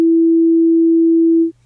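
A pure sine tone at a single fundamental pitch sounds loud and perfectly steady for about one and a half seconds, then cuts off abruptly into near silence.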